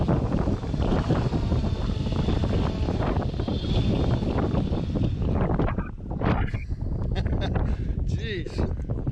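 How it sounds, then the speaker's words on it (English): Strong wind tears across coastal cliffs at Hallett Cove, a loud continuous roar that buffets the microphone, easing slightly near the end. "we got out on the cliffs at Hallett Cove and it was a lot windier than I thought"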